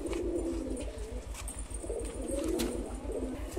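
Pigeons cooing close by in a steady, soft run of low throaty coos, with a faint bird chirp or two in the background; no voices.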